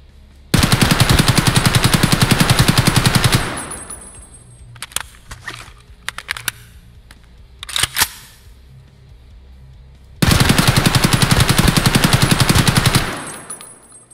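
AK rifle in the game Escape From Tarkov emptying a full magazine twice: a loud, rapid, unbroken burst of automatic fire lasting about three seconds, a gap filled with clicks and handling noises, then a second equally long burst.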